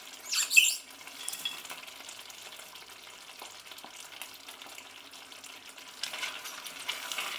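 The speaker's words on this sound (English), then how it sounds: "Give those a good stir." Green beans and spinach are stirred into a vegetable goulash with smoked paprika, giving a soft, quiet sizzle with faint scraping and a louder burst of stirring near the start, no talking.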